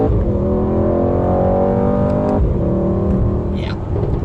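A Mercedes AMG GT 63 S 4-door accelerates hard in second gear, its engine note climbing steadily and loudly before a shift cuts it off and it settles into a lower drone.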